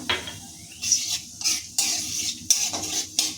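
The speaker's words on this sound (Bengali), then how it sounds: "গরম তেলে দিয়ে দিচ্ছি কালো জিরে সম্বরা।" Black cumin seeds hit hot white oil in a kadai, giving several sharp bursts of sizzling crackle with metal utensil scrapes between them, close and loud, with no talking.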